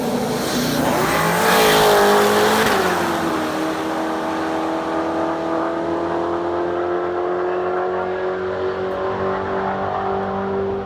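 A Corvette C7 with a Powerglide transmission roll races another car from about 40 mph, engines screaming loudly at first, then a sustained steady high-pitched drone as the cars pull away, with a faint tire squeal.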